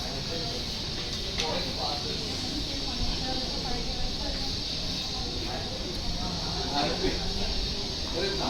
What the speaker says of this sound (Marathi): हे बघा आता आपली ट्रेन आलेली आहे.